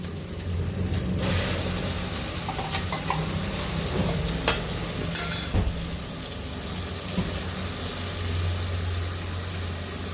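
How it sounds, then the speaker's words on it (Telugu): Blended tomato is poured into a hot pan and fries, with a continuous hissing sizzle, a splashy pour, and occasional spoon scrapes and taps close by, with no speech. "టమాటా మిక్సీ పట్టాను ఇది వేస్తున్నాను"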